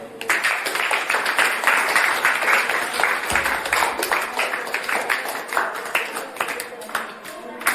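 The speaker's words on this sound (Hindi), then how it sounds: "ताली बजाओ भाई।" Clapping from a classroom audience during a school science demonstration, a dense, steady patter of many hands lasting throughout, with some voices mixed in beneath the applause.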